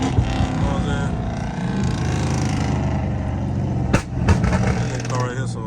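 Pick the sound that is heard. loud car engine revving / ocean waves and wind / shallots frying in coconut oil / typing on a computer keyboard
loud car engine revving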